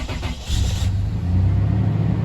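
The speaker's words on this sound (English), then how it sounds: "Here we are, about to turn on the truck" A 2002 Toyota Tundra pickup's engine is started right after a fuel filter change: a brief crank followed by a low rumbling catch as the motor fires up nearby.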